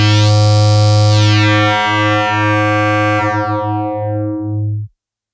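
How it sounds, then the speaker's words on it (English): A resonant filter on an Antimatter Audio Crossfold module self-oscillates as a simple sine wave oscillator, sweeping down steadily in pitch with rich harmonics for about five seconds before cutting off abruptly; loud and alone. "Here is a sweep of a resonant filter being used as a simple sine wave oscillator."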